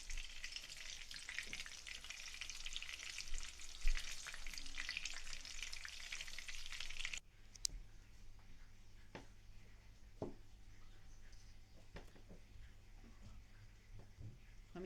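Chicken nuggets fry in a pan with a strong, dense sizzle for about seven seconds, then the sizzle drops to a quieter crackle broken by occasional clicks and scrapes, as if the nuggets are being moved.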